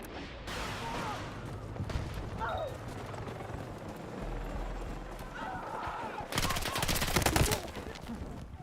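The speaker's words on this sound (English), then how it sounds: "Automated turret, guys." An automated turret fires in Battlefield 6 amid a busy battle mix, its loud rapid stream of shots breaking out near the end over continuous rumbling combat noise, with a voice speaking under it.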